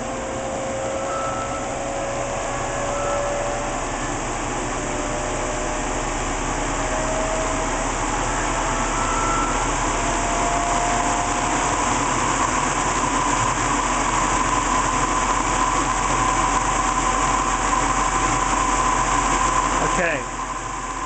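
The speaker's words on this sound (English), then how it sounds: "so let's take it up to 2500 RPM." A BMW demo prototype electric motor with regenerative braking and acceleration coils runs steadily at 2500 RPM, giving a continuous close hum with a faint rising tone, and a voice talks over it.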